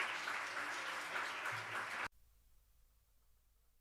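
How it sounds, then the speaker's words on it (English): Audience applause, a dense burst of many hands clapping that stops abruptly, leaving a quiet room. "Please join me in this big round of applause."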